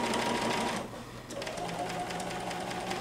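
A sewing machine quilting placemats, stitching in the ditch, runs with a steady mechanical whir, pauses briefly, then resumes at an even pace, close and moderately loud.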